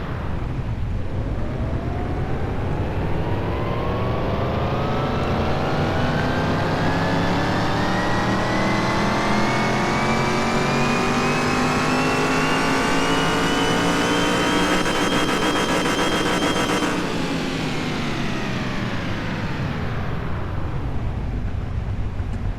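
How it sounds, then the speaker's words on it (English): Car engine revving on a dyno test in Car Mechanic Simulator 2021, tuned toward about 900 horsepower, climbing steadily through the revs in one long, loud sweep for around seventeen seconds, then dropping off as it winds down. "I want to proceed with the dyno test. 900 horsepower, come on."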